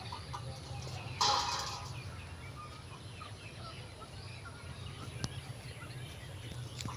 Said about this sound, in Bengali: মুরগিগুলা খাওয়া দাওয়া হলো কম বেশি, বাগানের দিকে থেকে বাড়ির দিকে আসছে। সবগুলো এখন খাঁচায় উঠবে।